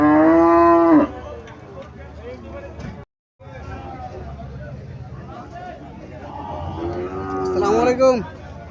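Cattle at the Moynamoti cattle market in Cumilla, a loud close moo at the start and another long moo later, over crowd babble and talking voices.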